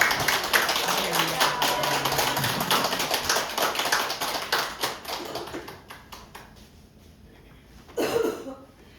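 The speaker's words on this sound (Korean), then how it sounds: "우리 박수로 할렐루야로." A church congregation claps together in a crowded rhythmic patter that thins and fades out, followed by a brief voice near the end.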